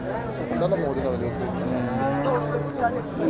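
Several cows moo in long, drawn-out calls that overlap one another at a cattle market in Sangola, with a busy crowd murmuring faintly in the background.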